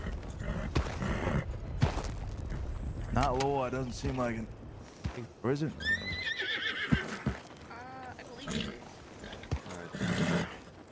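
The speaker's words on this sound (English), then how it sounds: "Hey, lots of horses coming in, I think." Several horses with riders approaching in the Red Dead RP video game, repeated neighs and whinnies over clip-clopping hooves, with voices talking throughout.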